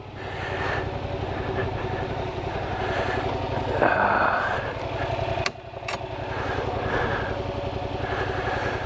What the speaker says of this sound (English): I don't have any throttle on at all. This is just idling.